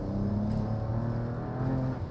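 A BMW E92 335i pulls hard through a third-gear roll-on, its engine a loud, close, continuous drone whose layered tones climb steadily under load, with no voices over it.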